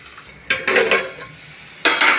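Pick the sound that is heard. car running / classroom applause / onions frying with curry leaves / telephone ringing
onions frying with curry leaves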